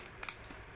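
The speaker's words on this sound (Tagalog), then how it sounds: "gupitin mo na yung may gunting" Scissors cut open a package: two quick close snips in a row, followed by a faint third click, in an otherwise quiet room.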